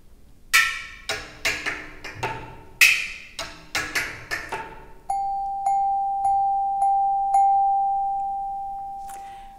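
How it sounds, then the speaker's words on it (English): A chime bar plays a short melody of ringing metallic notes in a classroom setting, a series of bright struck tones with long sustain, the final note ringing on and fading slowly. "I'm using a chime bar now."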